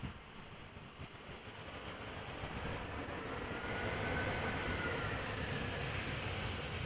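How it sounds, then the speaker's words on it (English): An EasyJet Airbus A320 touching down at Amsterdam Schiphol, heard as a broad, continuous jet roar that swells gradually and holds steady at a moderate distance. "A320 from EasyJet arriving from Palma de Mallorca. 2 hours and 4 minutes of flight time, now touching down."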